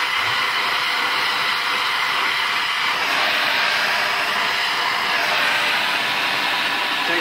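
A heat gun blows hot air over a leather holster, a steady, loud rushing whir that holds constant throughout with no talking.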